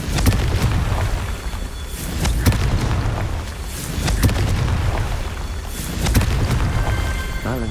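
Confringo explosion spell in the Hogwarts Legacy video game, a series of loud booming bursts repeating every second or two, each with a sharp crack and rumbling decay, with no talking.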